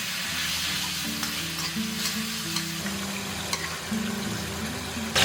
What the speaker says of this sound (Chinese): 然后继续炸。